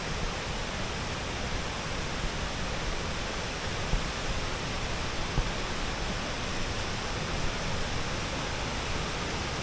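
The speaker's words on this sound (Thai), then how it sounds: "อันนี้เป็นจุดลองของน้ำตกคลองลาน" Khlong Lan waterfall in Kamphaeng Phet, Thailand, with water pouring and splashing in a dense, constant roar, loud and steady throughout, with no voices.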